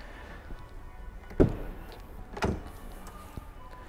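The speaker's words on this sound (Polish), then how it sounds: "Klamki Easy Entry, czyli wyskakują po otwarciu samochodu, po podejściu z kluczykiem." Two short mechanical whirring clunks about a second apart, fairly close, over a quiet background hum: the electric pop-out door handles of a Kia EV6 extending as the key approaches.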